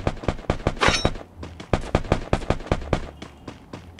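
Sniper rifle gunfire in Garena Free Fire, a rapid series of sharp cracking shots in quick irregular succession, loud and close, with no talk.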